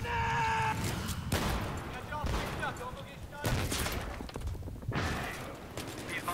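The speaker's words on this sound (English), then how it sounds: "there's a lot of explosives." Battlefield 3 Conquest Domination gameplay brings repeated bursts of gunfire and booming explosions in quick succession, loud and chaotic, with brief gaps between the blasts.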